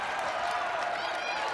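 The Syracuse Orange home crowd applauds during a women's college basketball game against UAlbany, a faint, even wash of clapping filling the arena without a break.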